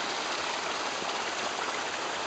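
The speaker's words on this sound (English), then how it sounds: "There's now a little waterfall into the area that used to be" A small waterfall pours into a flooded parking area at Lake Mokoma, giving a steady, broadband rushing wash of water with no breaks, fairly close and alone.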